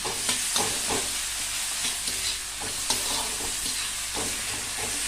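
Fresh red chili thecha roasts in a pan: a continuous close sizzle with repeated scraping and stirring knocks of a spatula, and no speech.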